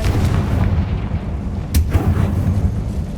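The Confringo fire spell goes off in the video game Hogwarts Legacy. A loud, deep booming blast sounds up close with a sharp crack midway and a rumbling tail, over constant low game noise.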